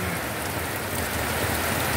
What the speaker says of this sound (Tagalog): patuloy pa rin ang pagbayo ng ulan